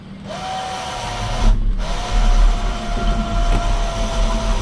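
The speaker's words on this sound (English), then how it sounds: "So lock the winch back in and see what happens." A winch on an off-grid homestead pulls a rope in, a steady mechanical whine with a low motor rumble that stops briefly, then resumes and runs on, loud and close.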